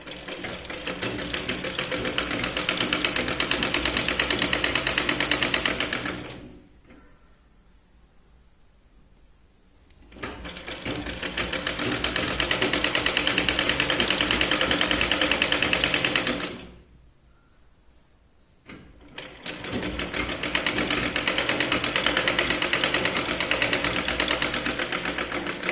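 A sewing machine runs fast, stitching a katori blouse in slippery saree fabric, in two long loud bursts of continuous rattling stitching with short quiet pauses between them.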